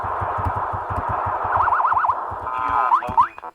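Atari-style Asteroids game built in TCL/TK with energy and fuel gauges sounds a warning: a warbling electronic tone over rapid low pulsing thrust beats, ending in rising chirps, all synthetic and fairly loud.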